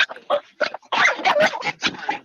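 Dog freaking out, giving a series of loud, frantic squeals and whimpering yelps in short bursts separated by brief gaps, heard close and alone.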